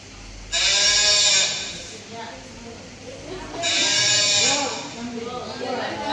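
A goat bleating loudly in two long wavering cries separated by a short pause, heard close and clear with faint background noise.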